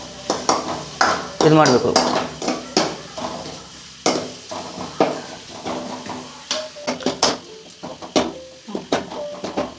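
Ginger garlic paste is stirred and fried in a pan for a dry prawn masala, with busy scraping and clattering spoon strokes over a steady sizzle while someone talks.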